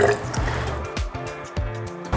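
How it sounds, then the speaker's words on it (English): Water splashes and gurgles into a container in short bursts, close and fairly loud, with a few pauses between pours. "we're gonna go ahead and add our cold water."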